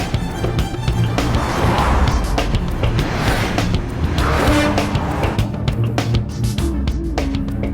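A car driving off in an action film scene, loud and close, with the engine surging twice and a rough rush of tire and road noise before easing.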